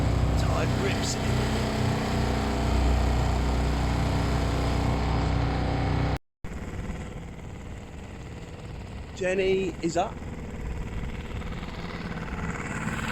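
A sailboat's engine runs with a steady droning hum, cuts out for a moment, then resumes with water and wind noise around it and a person speaking briefly.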